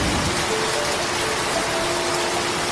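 Steady, dense rainfall hisses evenly throughout, a loud, close wash of drops on surfaces with no voices, set in an animated Bengali fairy-tale scene.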